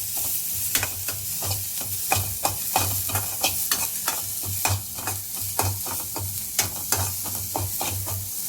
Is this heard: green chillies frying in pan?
yes